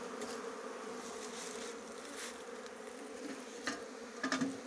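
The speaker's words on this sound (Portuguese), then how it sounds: "muita abelha" A large swarm of Italian honeybees hums in a steady, dense drone around an opened hive with honeycomb, with a few brief closer passes standing out near the end and no speech.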